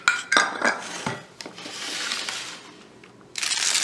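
A pan picked up and handled in a kitchen: a few sharp metallic clanks and scrapes up front, then quieter rustling and a brief rush of noise at the end, nearby, no speech.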